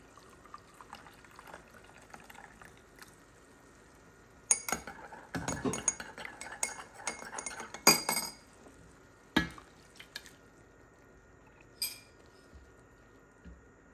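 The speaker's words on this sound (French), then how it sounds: "On mélange le tout." Tomato paste diluted with water gets stirred into a tajine of calamari, shrimp and octopus: scattered clinks and scrapes of a utensil against the dish, with a busier cluster of knocks in the middle and a few isolated taps later.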